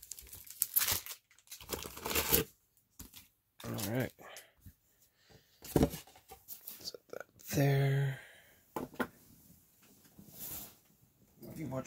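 Magic: The Gathering Time Spiral Remastered booster pack wrapper being opened, with close crinkling and tearing foil bursts between stretches of speech, one sharper rip near the middle.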